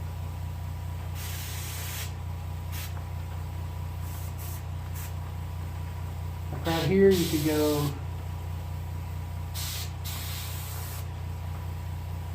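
Spray paint hisses from an airbrush or spray gun onto a white crappie fish for taxidermy, several short bursts and one louder, longer spray near the middle, with a person talking over a low steady hum.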